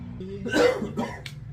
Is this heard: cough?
yes